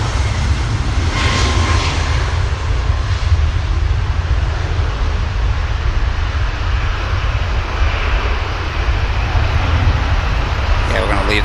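Virgin Atlantic airliner departing Manchester Airport, a steady broad roar of jet engines held loud and continuous throughout, with faint voices in the background.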